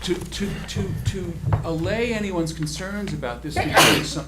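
A single sneeze bursts out near the end of a town zoning board meeting, loud and brief, with someone speaking steadily throughout.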